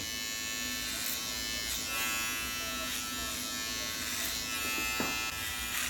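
Electric hair clippers buzz steadily while cutting a short sports haircut in a barbershop training session, a bright constant whine with small swells and scraping strokes as the blade moves through hair.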